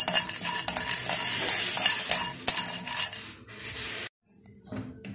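Peanuts stirred in a hot dry pan for homemade tahini with sesame, giving quick metallic scrapes and clinks in a busy rhythm, then a sudden pause and a few softer scrapes near the end.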